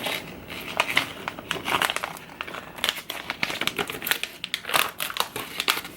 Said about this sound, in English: just kind of open it up here, and then it has kind of a Ziploc seal